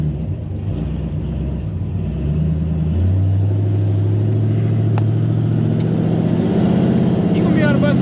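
A 1978 Ford F150 V8 with long tube headers, 2.5 inch pipes and one-chamber Flowmaster mufflers dumping behind the axle gives a loud, deep rumble. It idles, then swells into a sustained revving drone up close.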